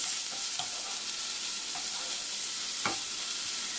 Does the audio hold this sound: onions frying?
yes